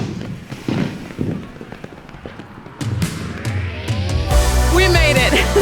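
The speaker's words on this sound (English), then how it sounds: "Running to see the fireworks." Fireworks at a state fair pop and bang in scattered bursts, growing denser and louder toward the end amid crowd noise and distant voices.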